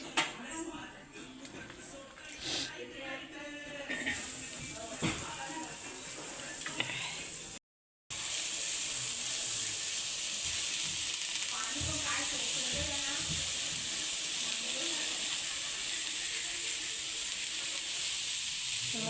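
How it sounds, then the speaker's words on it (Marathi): Onion dry-roasts in a pan for a masala paste, a soft, steady hiss and sizzle with faint stirring scrapes, while a voice talks at times during the first part. "मी आता वाटण भाजायची सुरुवात करते तर त्याच्यामध्ये पहिला मी घेणार आहे कांदा कांदा भाजून घेते"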